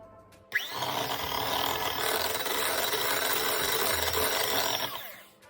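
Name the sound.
whisking butter and eggs for keto red velvet cupcakes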